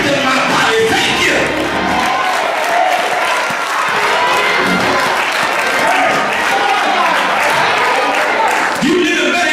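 A church congregation claps hands during a sermon, with a steady wash of clapping mixed with shouts and whoops from the crowd and voices over the top.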